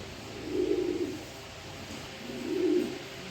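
A male pigeon coos twice, each low, rounded call swelling and fading over a quiet background, close and moderately soft.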